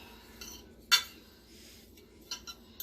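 A fork clinks against a bowl while mixing chicken parmesan ingredients, with one sharp close scrape-clink followed by a few lighter taps and soft stirring in a quiet room.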